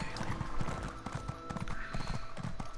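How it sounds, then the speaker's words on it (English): Horse hooves clip-clop steadily at a trotting pace in the Elder Scrolls Online video game, a continuous moderate rhythm over a busy game background with faint voice-like sounds. "use your horse when you go into this area"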